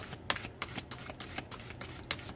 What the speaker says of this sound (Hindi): सिंगल शफल लूंगी प्रभु